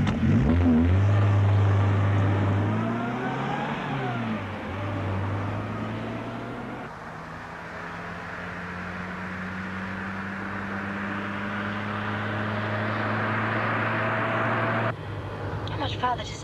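A car driving in a 1975 film, with a steady engine hum and road rumble that shift in pitch as it accelerates and cruises. The noise runs continuously under the dialogue of people talking inside the car.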